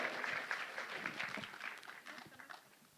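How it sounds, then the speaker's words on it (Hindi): An audience in a small auditorium hall applauds after a song performance, producing a steady, dense wash of many hands clapping that is fairly faint and distant throughout. "हो जाए जोरदार तालियां"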